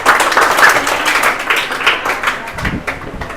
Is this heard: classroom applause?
yes